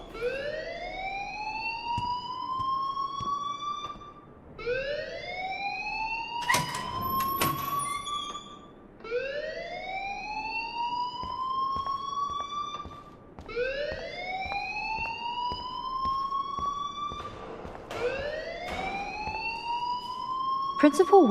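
A fire alarm wails inside the video game Life is Strange, repeating a rising whoop about every four seconds, loud and steady, with sharp electronic blips between some cycles.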